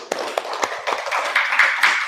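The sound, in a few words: students clapping applause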